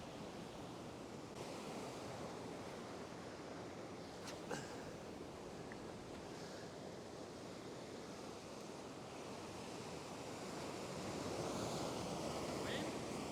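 Ocean waves break into whitewash at a fishing spot, a continuous broadband roar of surf mixed with wind buffeting the microphone, steady and fairly faint, swelling slightly louder toward the end.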